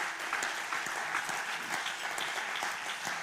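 Steady, dense applause fills a church gathering, a continuous wash of many hands clapping at even volume throughout.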